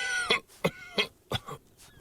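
A character coughs in the video game Arctic Awakening, four or five short, rough bursts spaced about a third of a second apart, close and fairly loud, with no talk.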